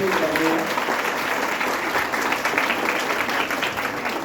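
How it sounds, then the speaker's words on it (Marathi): An audience at a school event applauds steadily and fairly loudly for several seconds, dense clapping that holds an even level throughout. "किती वरती जोरदार टाळ्या आपण वर्षाताईंसाठी."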